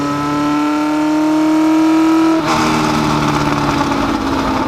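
A 1969 McLaren M9A race car engine revs loud and close on a track, a steady high-pitched drone that breaks abruptly into a rougher, harsher roar partway through and holds there.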